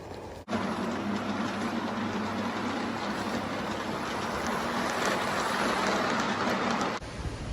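A repainted model train rolls along two-rail track outdoors, a continuous close rumbling whir with faint clicking that starts abruptly and cuts off near the end.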